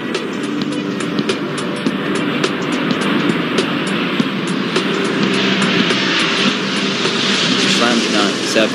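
Airplane jet engines roaring during takeoff in the video game Airport Madness 4, a steady loud rumble under ongoing talk.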